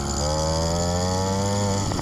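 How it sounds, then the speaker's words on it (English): A Phantom 85 bicycle engine runs loud and close, idling a little high with a buzzing, slightly wavering two-stroke tone throughout. "she's a little peppy. I suppose I could adjust the carburetor to get it to idle down a little bit more"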